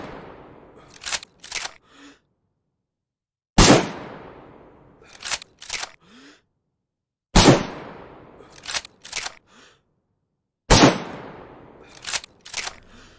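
Four heavy bolt-action rifle shots in DayZ ring out at steady intervals, each sharp crack followed by a decaying echo and a quick double clack of the bolt cycling the chamber.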